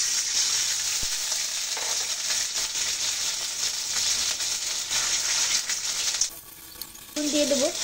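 Onions and green chillies fry in a pan, a loud, steady sizzle with light stirring that dips briefly near the end, then returns with a brief tonal sound over it. No voices are heard.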